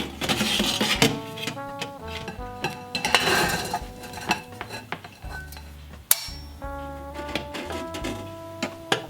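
Soaked cut potatoes going into a CalmDo air fryer oven: repeated clattering of metal trays and pans with clinks and knocks, fairly close and irregular, with no talking.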